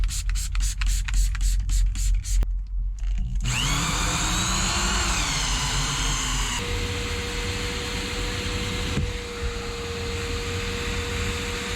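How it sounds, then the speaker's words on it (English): A drill-driven brush whirs steadily while scrubbing the interior of a 1997 truck with a 7.3 Powerstroke engine, the motor pitch shifting as pressure changes, close and loud with a steady tone near the end. "These drill brushes really do make a huge difference."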